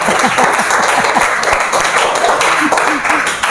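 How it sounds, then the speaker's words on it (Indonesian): A classroom of students claps loudly and close by during a social studies lesson, a full burst of applause with some voices calling out over it before it eases off near the end. "Mari kita tepuk tangan untuk perbedaan kita."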